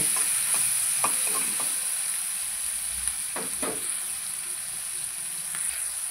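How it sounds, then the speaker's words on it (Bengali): Ingredients for a vegetable pasta dish, seasoned with salt, fry and get stirred in a pan, giving a steady soft sizzle with a few brief utensil scrapes and clinks. No one speaks. "এটাকে ভালো করে লাল লাল করে ভেজে নিয়েছি"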